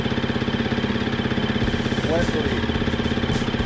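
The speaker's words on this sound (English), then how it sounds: "once you've had the engine warmed up for a few minutes" A KTM 350XC-F dirt bike engine idles steadily while warming up in snowy conditions, a close, even mechanical putter throughout, with someone talking briefly over it.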